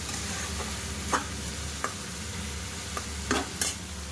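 Spice masala sautéing in a pan for a fish curry, a low steady sizzle with a few sharp scraping stirs and clinks scattered through it, fairly quiet.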